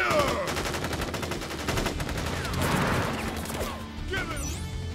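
Rapid volleys of soldiers' gunfire in the video game Crisis Core Final Fantasy 7 Reunion, dense automatic bursts and impacts with a brief ricochet whine, continuing loudly for several seconds.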